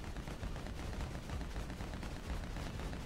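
Rapid gunfire in the video game Lego Batman 2, a dense rattling stream of shots at low level, continuous for a few seconds.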